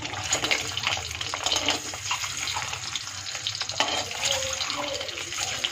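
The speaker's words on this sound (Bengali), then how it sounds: "ডিমগুলো প্রত্যেকটা দিকই একটু ভেজে নেব। হালকা করেই ভাজবো" Eggs fry lightly in a pan with a continuous crackling sizzle, close and fairly loud, with a few brighter spatters rising out of the steady hiss.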